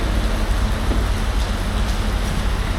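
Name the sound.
rain starting to fall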